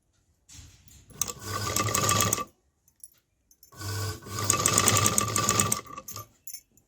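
Household sewing machine stitching a fall onto the edge of a saree, two fast rattling runs of a few seconds each separated by a brief pause, close and moderately loud with no voices.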